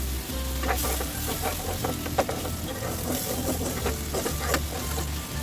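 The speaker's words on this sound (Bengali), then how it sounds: "আমার পেঁয়াজের বাটিটা ধুয়ে একটু পানি দিয়ে দিলাম।" Water added to a covered pan of onion paste frying for a Pabda fish curry, giving a steady close sizzle with scattered stirring clicks and scrapes at an irregular pace.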